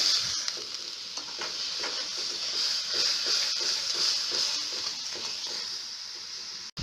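Sugar stirred in a hot pan while it melts for a lachha semai laddu sweet, a steady close sizzling hiss with soft repeated scraping strokes throughout, no voices.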